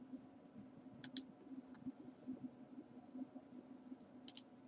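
Computer mouse clicks while working in ArcGIS for Desktop, two quick paired clicks about three seconds apart, crisp and close over a quiet hum.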